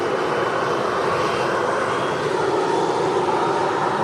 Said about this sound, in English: to your left, you've got the Gulf Air 787-9